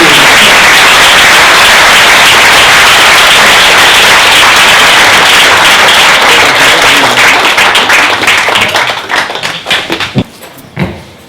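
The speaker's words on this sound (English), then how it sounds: "let's give a great big round of applause for our special guests, Radhanath Swami and Russell Simmons." A large crowd gives a long, loud, dense round of applause for the special guests, steady roaring clapping that thins into scattered claps near the end.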